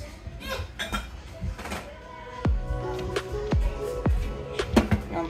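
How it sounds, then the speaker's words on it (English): A bowl clinks and thunks down onto a kitchen counter while deviled eggs are prepared, several short ringing knocks close by, with quiet kitchen handling before them. "I'm putting my bowl right here."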